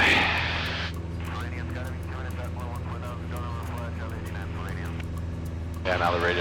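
A small airplane's engine drones steadily in flight, a constant low hum with harmonic layers heard from the cockpit, running beneath radio chatter and voices throughout.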